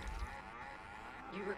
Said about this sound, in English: Luckily, Vorzun can kill the cows.